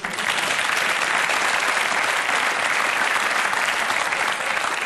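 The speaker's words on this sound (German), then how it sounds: "Das ist ein Applaus wert." A crowd applauds a performer doing a Louis van Gaal impression, dense and even clapping that holds loud and steady for several seconds with no voices on top.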